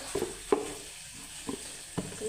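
Spicy chutney roasts in oil in a pan, giving a soft sizzle broken by several brief scraping stirs, close and fairly quiet.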